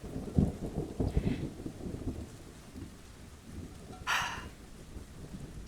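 Steady rain patters with low rumbles of thunder rolling underneath, and a brief louder crackle partway through; no voices, moderately quiet overall.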